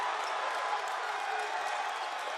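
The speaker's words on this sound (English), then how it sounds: "this Comet crowd is fired up" A home crowd at an Olivet College Comets men's basketball game against Adrian roars in a steady, unbroken wash of cheering that fills the gym at a loud, even level throughout.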